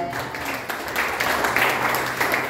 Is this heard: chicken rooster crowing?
no